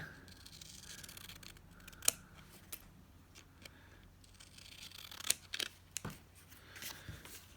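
Scissors trim across the top of a craft paper tag, giving faint close snips and a few sharp cuts spread over a quiet room background.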